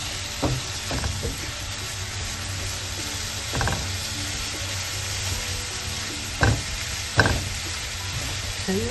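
A beetroot laddu mixture cooking in ghee on the stove is stirred steadily, with a soft continuous sizzle and periodic spoon scrapes and knocks against the pan.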